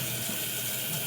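Tap water runs steadily into a sink for hand washing in a kitchen during a home baking session, a continuous close hiss with no voices over it for the short stretch.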